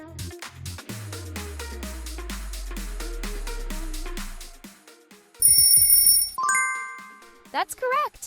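Huawei smartphone ringtone, a quick series of bright plucked tones over a descending low swell, then sustained high chiming electronic notes, all clear and close with no talk.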